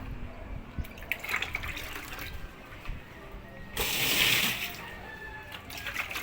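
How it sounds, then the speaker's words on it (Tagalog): Water pours into a washing machine that will not drain, a splashing, trickling fill with drips, close by, under some talk. "So, lagyan ko ng tubig at tingnan natin."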